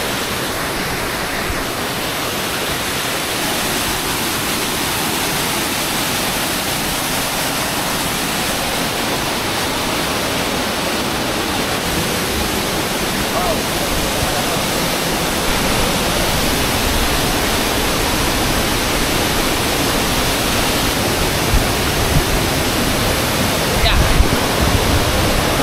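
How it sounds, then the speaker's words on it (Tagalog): Strong current of Balagbag Falls in Real, Quezon, a dense, continuous roar of rushing water filling the whole stretch at close range, with faint voices now and then beneath it. "Lakas ng agos."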